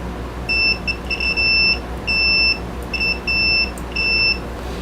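A multimeter on continuity test, used while upgrading a black-and-white TV, gives a series of short and longer high-pitched electronic beeps in uneven bursts, clear and close over faint background noise.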